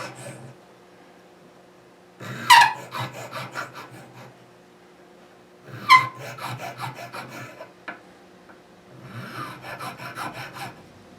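A small 16 thou nut file rasps back and forth in a guitar nut slot on a maple-neck guitar held in a knuckle vise, three short close bursts of scraping strokes with quiet pauses between.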